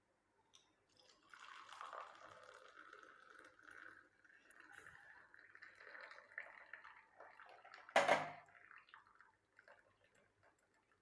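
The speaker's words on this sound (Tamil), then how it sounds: "டீ வடிக்கிற சல்லடையவே வச்சு நம்ம இதை வந்து நம்ம வடிகட்டி எடுத்துக்கலாம்" Herbal hair-oil decoction strained through a tea strainer into a tumbler, a soft steady trickle and drip of liquid with one sharp clink of metal on the glass partway through.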